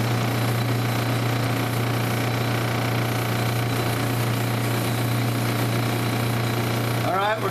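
A belt sander sanding a stone cabochon gives a steady, loud mechanical drone with a constant low hum throughout, ending with a brief change near the end.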